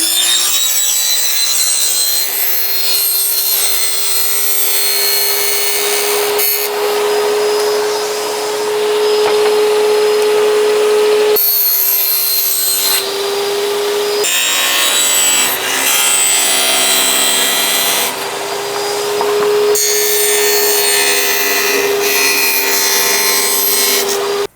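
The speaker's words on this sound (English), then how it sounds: "I need to cut this locking system off a little bit" A power saw cuts the locking edge off a floor plank, a loud, continuous whining buzz that shifts pitch as the blade bites and eases, with brief pauses between passes.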